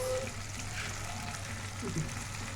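Onions or other ingredients sautéing in a pan for Egyptian koshari, a steady soft sizzle with occasional faint stirring, fairly quiet and continuous throughout.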